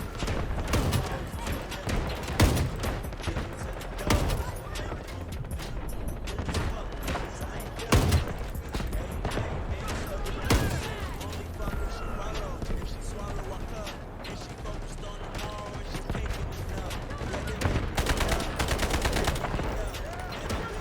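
Shotgun canister rounds fired during a fast-paced modern FPS firefight, with repeated sharp gunshots and bursts of gunfire over a busy, continuous layer of game sound and music.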